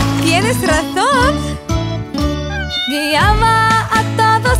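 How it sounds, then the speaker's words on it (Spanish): Cartoon cat meows sung within a Spanish children's song about ducklings, several drawn-out tonal meows riding over a steady bouncy musical backing with bells, loud and up front. "Guiaba a todos con su miau, miau, miau."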